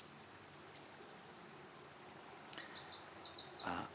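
A creek flows outdoors with a faint, steady wash of water, and a few bird chirps break in near the end.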